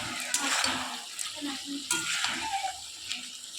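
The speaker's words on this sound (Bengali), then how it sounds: "দিয়ে সর্ষেটা দিয়ে একটু কষিয়ে নেব ভালো করে।" Mustard paste frying and being stirred in a pan for a home cooking recipe, with close sizzling and scraping strokes of the spoon in a short burst.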